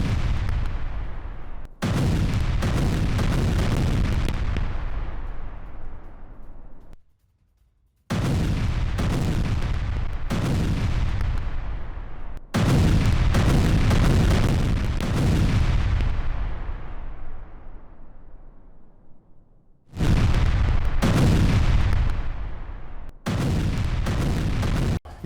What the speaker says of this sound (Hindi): JDAM बमों से रूसी सैन्य बिल्डिंग पर हमला